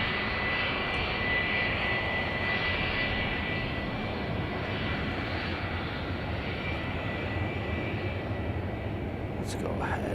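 A Boeing 757 jet taxiing at Chicago O'Hare airport, a loud continuous broadband engine roar and whine that holds steady for the whole stretch, with no distinct voices over it.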